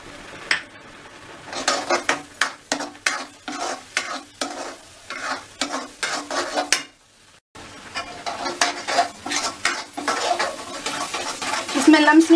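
Mawa and cocoa powder are stirred in a pan: rhythmic scraping and knocking strokes against the metal come close and loud, with a brief pause midway before the steady stirring resumes.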